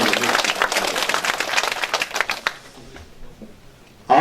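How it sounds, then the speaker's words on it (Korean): Audience applause at a local National Assembly member's constituency report meeting in a Korean neighborhood hall, dense clapping filling the first two and a half seconds before thinning out to near quiet. "큰 박수로"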